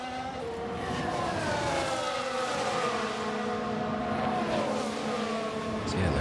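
Race cars from F1 Manager 2022, including a Ferrari and a Red Bull, roar along a straight, with overlapping engine tones sweeping in pitch as the cars pass, steady and loud throughout.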